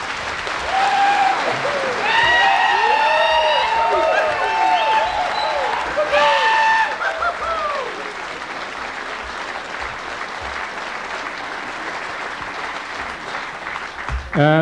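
Loud, sustained audience applause fills a hall at a folk dance concert, steady clapping lasting the whole stretch while a high whistle-like tone and bright overtones cut through early on.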